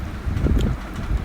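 Wind buffets the microphone outdoors beside a road, producing a loud, gusty low-frequency rumble that swells and dips over a brief stretch with no talking.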